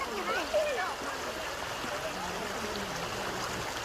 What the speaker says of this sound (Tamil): இது அந்த டேம்லேருந்து வர தண்ணி.